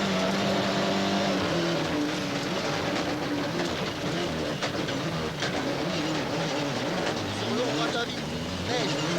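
A Ford rally car drives a stage of ice and loose, slippery surfaces at the 1996 Boucles de Spa rally in Belgium, its engine roaring steadily throughout under continuous commentary.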